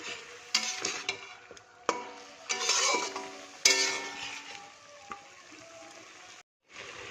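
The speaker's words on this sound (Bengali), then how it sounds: "মশলা ধোয়া জলটা দিয়ে দিচ্ছি। এবার সুন্দর করে কষিয়ে নেব।" Spice-rinsing water poured into a pan where masala is being sautéed for a rohu fish cumin-paste curry: loud sizzling bursts with spoon scraping and clinks, easing to a quieter simmer.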